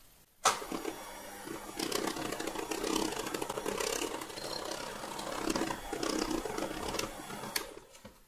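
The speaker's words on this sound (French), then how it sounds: "Et on va procéder à un rapide mélange en petite vitesse." Electric mixer blending marble cake batter of chocolate and vanilla at low speed, a steady quiet motor whir with a soft rattling texture running throughout, fairly faint.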